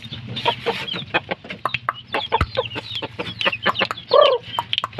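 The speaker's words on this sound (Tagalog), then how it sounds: "napakalaking manok" A very large chicken and others cluck steadily in quick, busy bursts close by. A louder squawk rises near the end over a low farmyard hum.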